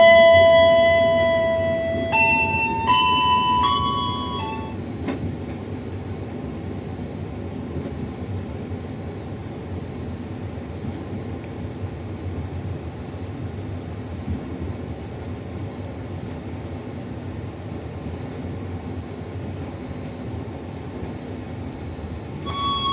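Steady rumble of the KA Batavia economy train running from Solo to Gambir, heard from inside the carriage; a chime opens the stretch, then the even, continuous rolling drone carries on alone.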